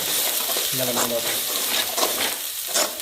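Dried red chillies frying with ginger and garlic in a pan for country chicken sukka, a close loud sizzle with a few quick stirring scrapes, briefly under a faint voice.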